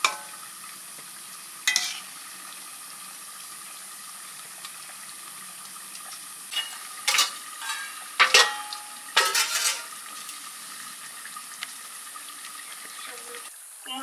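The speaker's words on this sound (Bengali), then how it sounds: "এবার মাছগুলো দিয়ে দিচ্ছি। শোল মাছই তো আছে, আর জাপানি পুঁটি একটা।" Shol and Japanese puti fish go into a pan of boiling curry gravy, giving a steady faint hiss broken by a few louder bubbling and stirring bursts, with no voices.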